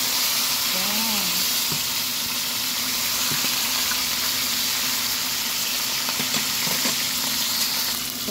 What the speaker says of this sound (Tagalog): Tapos ako magprito ng isda guys